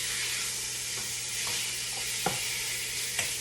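Steak browning in a pot for steak soup, sizzling in a steady close hiss with a few sharp spoon knocks and scrapes, moderately loud with no talk.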